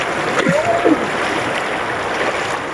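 River water at River Ranch in Tanay, Rizal rushes steadily in a strong current, a loud continuous broadband wash up close, with a brief faint voice-like sound near the start.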